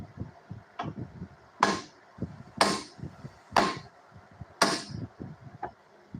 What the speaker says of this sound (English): you want to hit the side of the spindle where it goes through